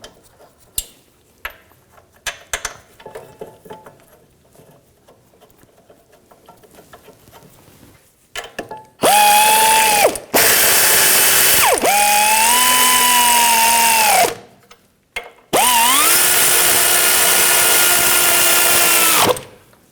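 Caliper bracket bolts being tightened on the rear brakes of a 2006-2010 BMW 550i: faint clicks and handling noises come first, then two long, loud whirring bursts from a power tool with a slight change in pitch.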